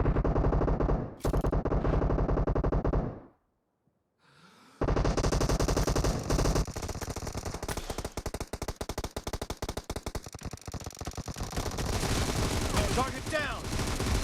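Automatic gunfire in a shooting video game, long loud bursts of rapid shots, a brief silent gap, then sustained dense firing with crackling rounds and game sounds, close and intense.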